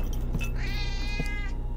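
A cat in The Operator video game gives a single drawn-out meow, clear and fairly close over a low humming background.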